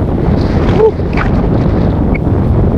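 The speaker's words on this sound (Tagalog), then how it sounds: "Grabe, sobrang hangin." Strong wind on Tinawagan Hills roars loudly and continuously against the microphone, a deep steady buffeting with slight gust swells and a faint brief vocal sound near the start.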